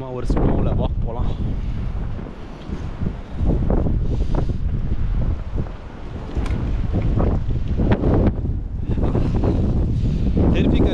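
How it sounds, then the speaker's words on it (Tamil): A strong wind of about 50 miles per hour roars during a Chicago snowstorm, a loud, steady buffeting rush against the microphone with brief lulls and renewed gusts. "பயங்கர காற்று வேறு அடிக்குது, 50 miles per hour."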